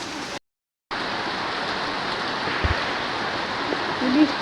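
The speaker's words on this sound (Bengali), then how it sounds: "বৃষ্টি আরো বাড়লো," Steady rain pours down on a rainy day, a dense continuous hiss of drops on surfaces after a brief silent gap, with a faint voice and a small knock near the end.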